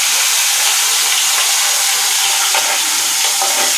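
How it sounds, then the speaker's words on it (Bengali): Stinging catfish (shing fish) fries in hot oil for a Bengali fish curry, giving a loud, steady, dense sizzle with occasional crackling pops and no talking. "তেল গরম হয়েছে এখন আমি তেলে দিয়ে দেবো মাছে রাখা মাছ"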